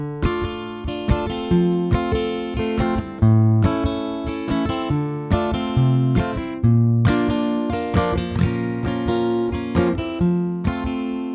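Acoustic guitar strums chords in a steady down-and-up rhythm, full and close, with brief changes between chords and no voices.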